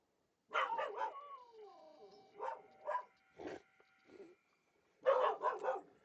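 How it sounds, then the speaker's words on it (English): A dog in a Farming Simulator 22 farm setting barks in several close, loud bursts, with a whimpering yelp between them and a final cluster of barks. "What are you barking at?"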